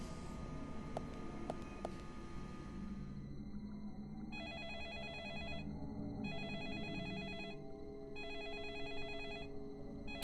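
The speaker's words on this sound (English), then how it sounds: "do we have to answer the phone or can we leave it ringing to distract him?" A telephone rings in the game Deadly Premonition, starting with a few muffled tones and then settling into four long, regular electronic ring bursts separated by short gaps, heard over a low game ambience, with no speech.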